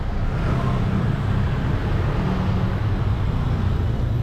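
Steady road traffic on the streets of Bali, a dense continuous rumble of cars and engines with no single vehicle standing out, constant and fairly loud throughout.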